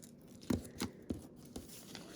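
Scissors cutting a paper leaf shape for a handmade card: four or five quiet, crisp snips spaced about a quarter second apart, close by, with no talking.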